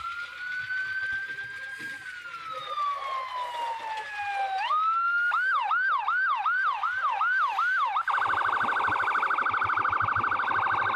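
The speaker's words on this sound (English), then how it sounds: "Come on, folks, stop for the ambulance." An ambulance siren wails with slow rising and falling sweeps, shifts into a rapid yelping pattern, then a steady pulsing tone, loud and continuous over traffic.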